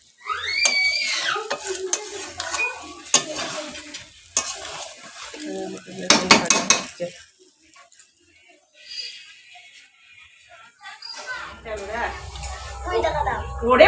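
Fat sizzles in a pan during home cooking while people talk loudly nearby. Bursts of frying hiss and scraping mix with the chatter, and a deep low hum rises near the end.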